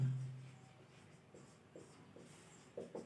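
A pen writes maths equations on paper, giving faint, close scratching strokes in short bursts against a quiet room.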